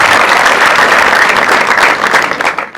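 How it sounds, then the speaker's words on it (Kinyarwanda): An audience at a formal event breaks into loud, dense applause that holds steady for nearly three seconds before tapering off abruptly. "tumwakiriza amashyi menshi cyane."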